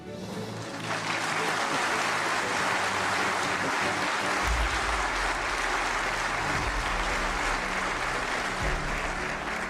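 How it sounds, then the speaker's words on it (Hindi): A large crowd bursts into sustained, loud applause that starts abruptly and holds steady, dense clapping for several seconds with a voice faintly beneath. "बजाओ बजाओ और जोर से ताली बजाओ"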